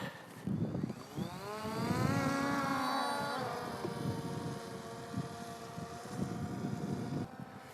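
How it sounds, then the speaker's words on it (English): A drone taking off outdoors, its motors revving up into a rising, whining buzz with strong tonal harmonics that climbs in pitch, then holds a steady drone as it flies. "ready for the Wright Brothers takeoff"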